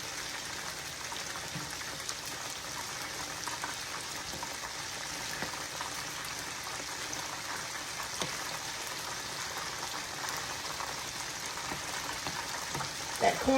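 Pork sizzles steadily in a frying pan as it browns, giving a constant hissing crackle without breaks at moderate volume.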